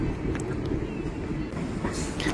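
A train moves through Tangiriapal railway station in Keonjhar, Odisha, giving a continuous low rumble and rolling noise that holds steady throughout, with no talk.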